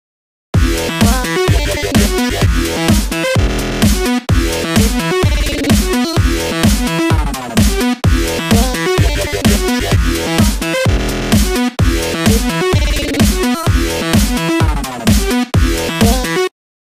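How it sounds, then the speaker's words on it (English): Loud electronic dance music with stuttering, chopped-up glitch edits, abrupt cuts and repeated fragments over a steady driving beat. "that crazy glitched out sound you hear so often"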